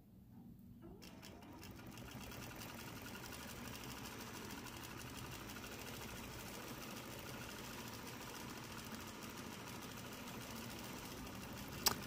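A sewing machine quilting a charm-pack table runner runs steadily and close at a constant speed, its rapid stitching chatter continuing throughout with no talking.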